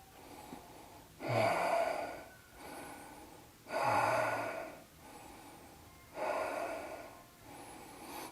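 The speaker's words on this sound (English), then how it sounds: "Another breath." Slow yoga breathing during a flow session moving into Sphinx pose: three long, loud breaths a couple of seconds apart, each a rushing exhale with a snort-like edge, close to the mic with no speech.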